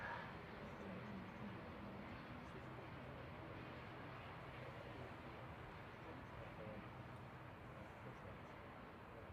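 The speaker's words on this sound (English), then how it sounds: "TUI Dreamliner taxi now." A TUI Boeing Dreamliner taxiing at Manchester Airport gives a steady, distant jet-engine rumble and whine that holds at an even level throughout.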